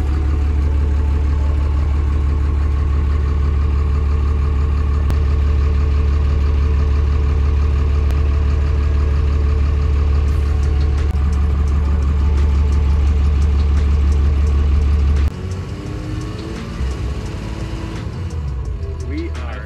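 A school bus converted into a skoolie runs its engine while stuck in a yard trying to climb over a hump, a steady loud low rumble that drops in level near the end.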